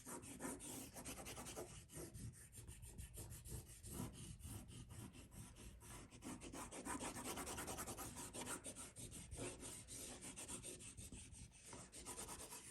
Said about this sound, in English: It's going over everything with the side of a yellow crayon.